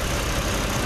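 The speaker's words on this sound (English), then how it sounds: "nice clean engine, the Vortec that GMC uses. Good engines in these. It's running quite quietly." A GMC Canyon pickup's Vortec engine idles quietly, a smooth, steady low rumble heard close and alone for a brief moment.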